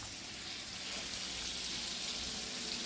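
Blackened salmon frying in a pan gives off a steady, even sizzle, a soft continuous hiss with no voices.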